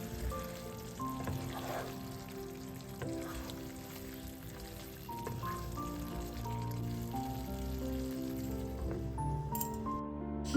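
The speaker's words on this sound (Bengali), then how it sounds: "এর মধ্যে সামান্য কিছু শুকনো লঙ্কার গুঁড়ো দিয়ে সব কিছু মিশিয়ে নিয়ে কষাতে থাকি" Mutton stir-fried with dry chili powder in a pan gives a soft, continuous sizzle with occasional stirring scrapes, faint and mixed under a steady tonal background.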